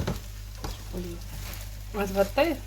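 Spinach frying with onion in a pan gives a soft, steady sizzle, with a few brief stirring scrapes and a faint voice in the background.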